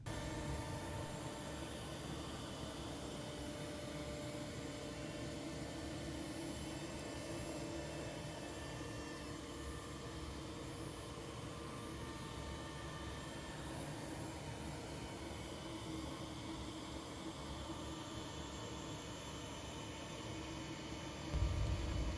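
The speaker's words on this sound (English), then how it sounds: "Now the CNC is coming through and using that same 60° V-bit to put a bevel edge here" A CNC router spinning a 60° V-bit cutting a bevel edge into an HDF door panel, a loud steady high-pitched whine and rushing noise running unbroken throughout, with no talking.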